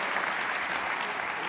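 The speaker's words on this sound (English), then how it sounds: "Let's give Tony Little a round of applause on that one" A keynote audience gives a brief, steady round of applause, a dense even wash of many hands clapping with no voices over it.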